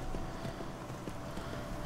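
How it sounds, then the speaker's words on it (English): Horse hooves clip-clop in an even walking rhythm while riding in the Skyrim video game, steady and fairly soft over a constant ambient background. "Decided to get a horse."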